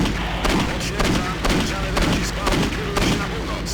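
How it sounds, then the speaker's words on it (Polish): Rapid pistol shots from the video game Postal 2, a steady string of sharp bursts about every half second, loud and close, with no talking over them. "Ile strzałów ja musiałem oddać z pistoletu, żeby on zginął."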